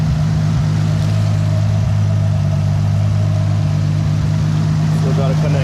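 Toyota Supra 2JZ engine with a turbo upgrade and drive-by-wire, running after its first startup: a loud, steady idling rumble with a slight uneven pulse.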